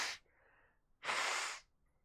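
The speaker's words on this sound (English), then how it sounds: "I gotta blow my nose." Two short bursts of a person blowing their nose, one brief and a longer forceful second blow, close and fairly soft, in an office with no talking over them.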